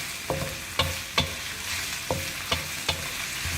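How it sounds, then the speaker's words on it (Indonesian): Black squid sautéing in oil in a pan, a steady sizzle punctuated by several sharp scrapes and clicks of a spatula stirring, close and clear with no talking. "Setelah ditambahin, kita aduk lagi, kita tumis lagi"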